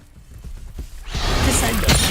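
A Bombarda explosive spell in Hogwarts Legacy: a few clicking, mechanical knocks build into a loud, close burst of crumbling, shattering debris that keeps roaring to the end.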